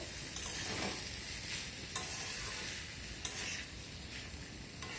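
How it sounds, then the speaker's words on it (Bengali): Papaya, potato and boiled chana dal being stirred in a pan: a quiet, steady sizzle with a few soft spatula scrapes and taps. "সব কিছু আবারও আমি এইভাবে নেড়ে ছেড়ে নেব"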